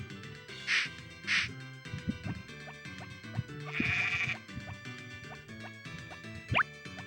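Sheep bleats in the Harvest Moon video game, set among farm animals in a barn: two short high calls early, then a longer bleat midway and a sharp one near the end, over light game music.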